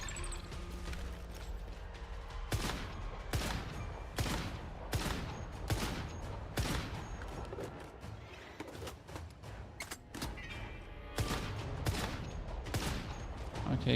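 Pistol fire in the survival shooter Once Human comes as a run of sharp, separate shots at an uneven pace, each a brief loud crack over a low mechanical rattle and background game sound, with no talk.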